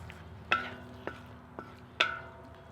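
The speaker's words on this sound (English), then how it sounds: "All right, so we're gonna stir this in." Cumin and spices being stirred into vegetables in a pan, four distinct scraping clinks spaced about half a second apart over a soft background sizzle, close and clear.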